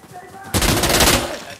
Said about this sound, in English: Be careful, there's a machine gun on the left side.